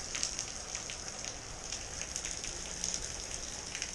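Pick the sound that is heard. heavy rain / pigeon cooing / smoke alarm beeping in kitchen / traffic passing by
heavy rain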